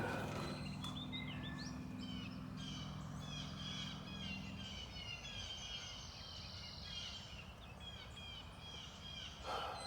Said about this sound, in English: Boy, is it nice to hear the birds.